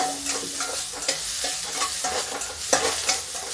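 Onions sizzle in a hot steel kadhai as a spoon stirs them, loud frying hiss broken by frequent clanking scrapes against the metal, with no voices.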